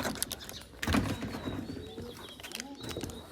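Soft cooing of two fancy pigeons close by, a low burbling call rising midway, with faint chirps and rustle in the background.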